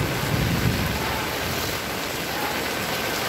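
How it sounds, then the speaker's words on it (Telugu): Floodwater rushes in front of the goddess shrine at Mahanandi temple in Kurnool district during torrential rain, a loud, continuous broadband roar of churning water with no pauses. "అమ్మవారి గుడి ఎదురుగా నీళ్ళన్నీ కూడా ఇట్లా వచ్చాయి చూడండి."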